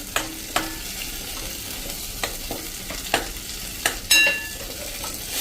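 Tomato puree and chopped tomatoes cooking in oil, a soft continuous sizzle punctuated by sharp spoon clacks and scrapes against the pan at irregular intervals, close up with no talk.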